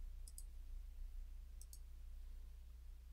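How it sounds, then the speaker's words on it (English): A computer mouse clicked in takeoff software: two faint, sharp double clicks about 1.3 seconds apart over a steady low hum. "To unselect objects, you can simply click on the selected object again,"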